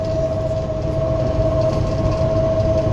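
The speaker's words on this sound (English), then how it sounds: "Another train. Two orange BNSF on a double stack." A BNSF double-stack freight train with two orange locomotives rolls past at a rail yard, a steady loud rumble of rail cars with a constant tonal squeal running throughout, no voices.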